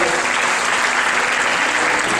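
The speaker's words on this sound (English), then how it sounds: "Give Austin a hand clap" A church congregation claps their hands together, a sustained wash of dense, even applause filling the room at a loud, steady level without talk.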